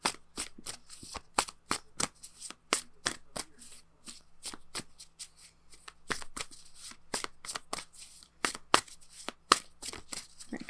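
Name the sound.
shuffling oracle cards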